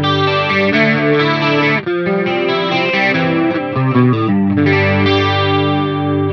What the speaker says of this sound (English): Let's see what the chorus sounds like.